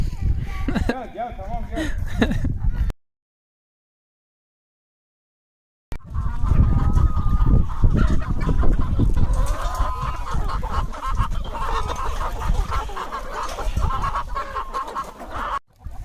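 Many village chickens clucking and cackling nearby while being fed, a busy flock sound with a short silent gap midway.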